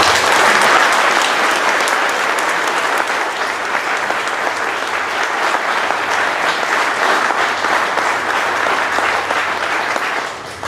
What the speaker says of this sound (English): Let's give a round of applause for her.